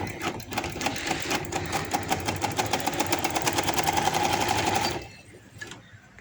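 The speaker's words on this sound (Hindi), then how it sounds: "लास्ट को खींच के पकड़ना है इस तरीके के साथ और सिलाई लगाते जाना है" A sewing machine runs rapid rhythmic stitches while elastic is stretched and sewn onto a baby boy's shorts, a close, steady mechanical chatter for about five seconds before it stops abruptly.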